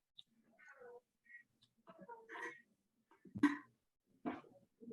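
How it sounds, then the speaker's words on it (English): A pet cat meows indoors in several short, soft calls spaced apart, with a few brief louder chirps, in an otherwise quiet room. "My cat wants to come and watch it as well."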